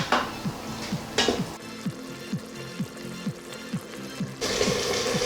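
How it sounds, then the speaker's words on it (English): A spoon scrapes and taps rhythmically against the inner pot of an Instant Pot while thick sloppy joe sauce simmers on saute, about a dozen steady close strokes with bursts of bubbling and sizzle between. "you press saute and stir it up until it gets nice consistency."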